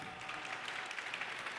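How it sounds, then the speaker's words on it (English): Audience applause at a startup pitch session on the main stage of a business summit, steady dense clapping filling the moment at moderate level with no talk over it. "Yes, applause, please."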